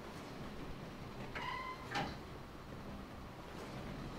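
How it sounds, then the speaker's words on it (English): A train car door slides open in a video game, one short scraping, rattling slide heard at close range over a low steady background hum, with no voices. "I can open this door."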